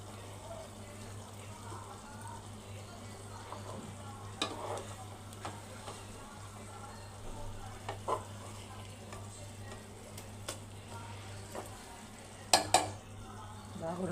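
Egg curry frying in a pan: a soft continuous sizzle with a low steady hum underneath and occasional scraping stir strokes and clinks, growing louder near the end.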